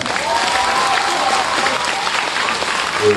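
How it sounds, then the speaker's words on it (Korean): An audience of residents at a neighborhood meeting about Mokdong apartment complexes 1–3 bursts into sustained, dense applause, loud and steady throughout with no pause. "여러분 박수 부탁합니다"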